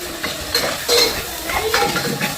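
Onions and tomatoes cooking down to a paste in a pan, heard as steady sizzling with repeated scraping and clinking of a spatula or spoon against the metal, close and fairly loud.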